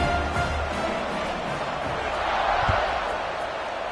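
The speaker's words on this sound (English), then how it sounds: "this crowd is buzzing after that last score" A football stadium crowd in Missouri versus Colorado drones with a steady, dense roar that fills the space, holding even and loud throughout without distinct cheers standing out.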